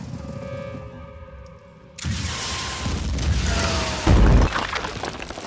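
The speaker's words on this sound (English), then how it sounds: "see if we can get a sight around that corner and blast some more missiles at this egg" Missiles strike a Pandoran egg in Phoenix Point with a sudden loud burst, followed by a sustained roaring blast and a deeper boom near the end.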